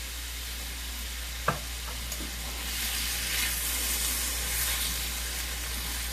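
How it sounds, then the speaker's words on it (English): Candied beets stirred in a pan of dissolving liquid give a steady, broadband sizzle with soft bubbling hiss, a sharp clack of a utensil near the start and a slight swell in the frying sound toward the end. "we're supposed to stir this around just until the liquid has all dissolved"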